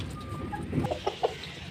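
Chickens cluck softly in a few short, scattered bursts while eating, close by, with a low background hum.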